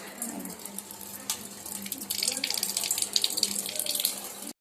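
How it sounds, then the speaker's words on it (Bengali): Water running from a tap into a bucket at home, a constant rushing splash that swells louder partway through and then cuts off abruptly at the end, close by, with no voices. "এলে ভরে নিয়ে তারপরে কাজে বসবো বলতে জল এসে গেল"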